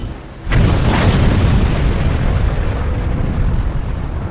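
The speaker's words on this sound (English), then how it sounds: "Before slipping beneath the surface, her powder magazine detonates." A huge deep boom of the Japanese battleship Yamato's powder magazine detonating as she sinks in April 1945, bursting in suddenly and loudly, then rolling on as a long sustained rumble that fades only slightly, with no voices.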